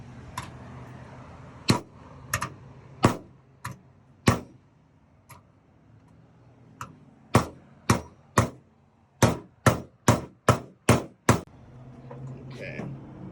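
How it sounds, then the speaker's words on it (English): A security bar's square end is hammered into a back-door hole with a long series of sharp, close metallic blows, some spaced apart and then a fast cluster. Low voices are heard in the background between strikes. "what they want you to do is basically hammer it in and make it flush"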